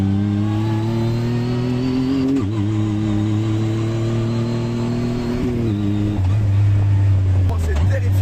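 A Yamaha YXZ 1000R SS side-by-side engine revs hard while driving, its loud, close drone rising and dropping as gears shift and throttle changes, with a brief dip and surge near the end.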